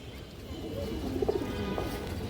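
Pigeons coo softly in a few low, murmuring notes over steady background noise.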